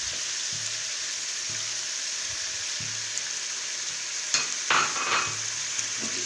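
Minced chicken with red chilli and turmeric sizzles in a pan for chicken keema matar, a steady hiss with a low rhythmic hum and a cluster of louder stirring scrapes near the end.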